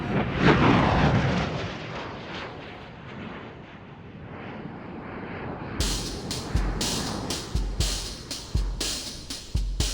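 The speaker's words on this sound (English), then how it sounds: "It's a fighter jet, and I haven't seen a plane in over 2 months." A fighter jet passes overhead with a loud, broad roar that swells and then fades. Sharp, irregular cracking bursts follow toward the end.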